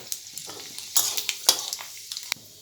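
Nigella seeds and panch phoron hitting hot oil produce sharp crackling sizzle bursts and pops, close and fairly soft, in irregular clusters with no talk.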